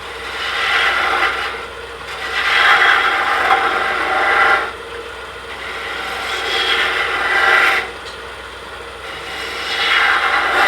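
Woodturning gouge scooping wood on a lathe while turning a decorative Christmas tree table, a steady abrasive rasping scrape that swells and fades in repeated passes, close and alone.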